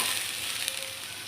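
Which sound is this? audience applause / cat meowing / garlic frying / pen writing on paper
garlic frying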